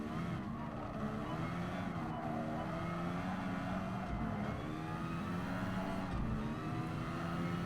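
Race car engines in Gran Turismo Sport during an F1500 Championship race, a steady, loud, continuous engine drone with rising and falling pitch as the cars accelerate, heard throughout.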